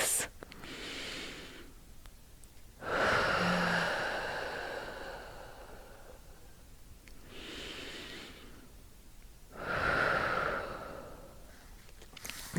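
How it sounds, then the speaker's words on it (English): Slow, deep breaths during a bedtime yoga stretch, each long inhale and exhale clearly audible up close in a quiet room, with a pause between breaths. "2 more breaths."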